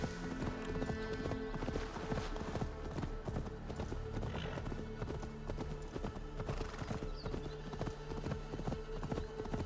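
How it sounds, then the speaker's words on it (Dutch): Horse hooves clip-clop at a steady riding pace in Assassin's Creed Valhalla, rhythmic and moderately close, with faint game ambience underneath and no talk. "En dan gaan we toch maar weer te paard."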